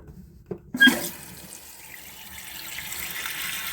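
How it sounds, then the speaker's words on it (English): After a brief click and near silence, water rushes in through a newly replaced float valve and keeps flowing steadily, filling a toilet tank with a constant hiss. "That's a good thing, water's coming out of there."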